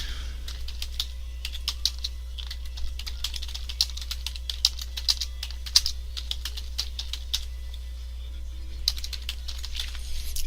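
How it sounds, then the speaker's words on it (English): Steady, brisk typing on a computer keyboard, with close clicky keystrokes running continuously over a low electrical hum and no talking. "we're going to type a description of what this macro does"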